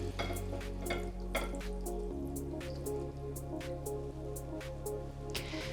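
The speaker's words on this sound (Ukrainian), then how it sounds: "До локшини я додаю бульйон." Broth is poured onto ramen noodles in a bowl, giving a run of close, irregular liquid splashes and drips over a low steady hum, with no voices.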